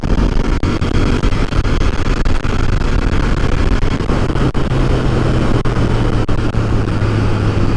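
An old Royal Enfield motorcycle, some 55 to 65 years old, being ridden, a loud continuous engine drone with heavy wind rush and a rising low hum, no voices.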